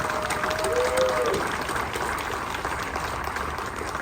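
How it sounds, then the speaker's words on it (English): Crowd at the opening ceremony of Parkside Market at Downtown Disney applauds outdoors, an even, rushing patter of clapping at moderate level that holds steady throughout, with a brief tonal sound early on. "please give yourself a round of applause"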